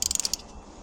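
Wrench tightening bolts, giving a quick run of about seven sharp ratcheting clicks up close, then stopping and leaving a brief quiet tail.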